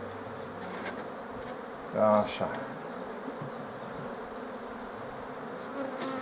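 A steady, close buzzing of honey bees at an open hive fills the scene, with a brief louder burst of buzzing and a short spoken word partway through.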